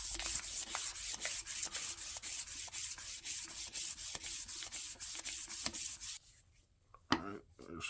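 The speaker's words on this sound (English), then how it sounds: "Now I'm going to hit it again with some 400 grit sandpaper." A ball peen hammer head being sanded by hand with 400 grit sandpaper, steady rhythmic back-and-forth rubbing strokes, close and fairly loud, stopping near the end followed by a brief clunk.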